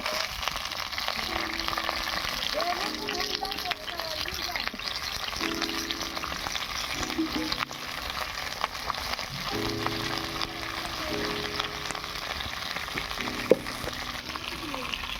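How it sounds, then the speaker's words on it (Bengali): Flat beans fry in mustard oil in a wok, giving a constant crackling sizzle close up with faint stirring clatter and no voices. "শিমগুলোকে এবারে ভেজে নেব।"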